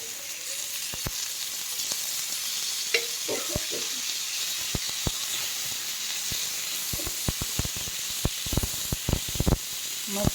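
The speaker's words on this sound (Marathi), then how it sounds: "तर आता हे टोमॅटो तळण्यासाठी आणखी आपल्याला थोडंसं तेल टाकायचं आहे" Tomatoes frying in oil in a pan, a soft continuous sizzle broken by sharp clicks and pops from stirring, close and fairly quiet, with no talking.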